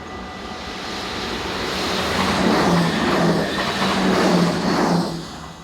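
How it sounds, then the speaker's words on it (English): A Class 2900 Sprinter three-car electric multiple unit passes on a local service, a broad rushing swell that builds from a steady background to a loud peak mid-way and then eases, with no voices. "Heading south towards the camera is Class 2900 Sprinter 3-car electric multiple unit number 2966 on a local service for Roosendaal"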